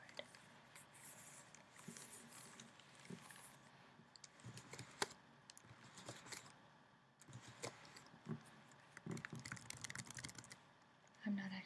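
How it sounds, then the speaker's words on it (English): Quick, soft key presses on a smooth computer keyboard patter in uneven bursts close to the mic, with a quiet voice speaking faintly underneath at times. "I just thought you might like the typing sounds of this smooth keyboard."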